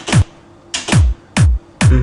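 Disco drum beat pattern programmed in FL Studio, four evenly spaced loud hits, each a booming kick with a bright crisp top, repeating steadily with no talk.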